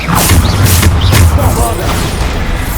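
Bombarda spell explosions in the Hogwarts Legacy video game, several loud booming blasts with sharp cracking onsets in quick succession, deep low rumble underneath and debris-like crackle trailing off.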